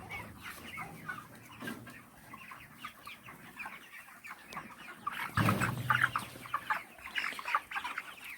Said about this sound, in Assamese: তো এইবোৰ মুৰ্গী হয়।